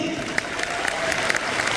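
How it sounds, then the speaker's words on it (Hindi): A short burst of hearty applause from a seminar audience at an RCM business event, dense clapping from many people filling the room. "एक बार जोरदार ताली"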